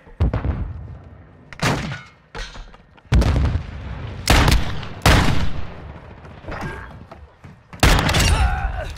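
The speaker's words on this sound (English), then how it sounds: "Throwing a stun grenade!" A stun grenade in a video game with riot shields and objective modes goes off among a series of loud, sharp explosive bangs and gunfire bursts spread over several seconds, each followed by a short rumbling decay.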